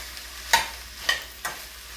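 A spoon scrapes and stirs through food frying in a pan, breaking up chunks during a home dinner cook with potato flake chicken, rice, cabbage and corned beef; three distinct scraping strokes over a faint sizzle, no talking.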